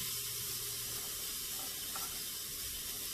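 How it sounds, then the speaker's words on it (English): Onions sautéing in a heated Instant Pot, giving a steady, faint sizzle and hiss that runs unbroken throughout with no other sounds. "So now I'm going to put in my onions. We're just going to saute those around just for a minute."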